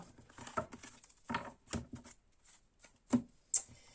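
A deck of tarot cards is cut and handled in a few quick, soft, close rustles and flicks, with short taps and quiet pauses between them.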